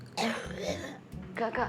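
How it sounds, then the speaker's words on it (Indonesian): A person coughs and clears their throat indoors at home in a horror-tinged drama scene: two short, harsh bursts close to the listener, separated by a brief pause. "sumpah beneran tadi gue denger suara orang batuk"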